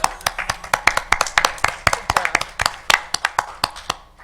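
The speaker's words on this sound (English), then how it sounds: "Can I clap?" A few people clap at a city council meeting in Romulus, a brisk run of sharp, fairly close hand claps with an uneven rhythm.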